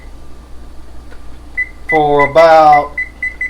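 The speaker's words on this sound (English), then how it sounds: "We're going to set the timer" A kitchen timer beeps in short electronic tones as it is set while crabs steam, with one longer buzzing tone in the middle and brief talk over the beeps.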